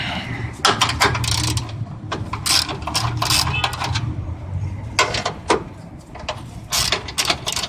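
Ratchet clicking while removing radiator brackets on a 2003–2007 Honda Accord, rapid bursts of metallic clicks in short runs with brief pauses, close by, with a voice speaking intermittently.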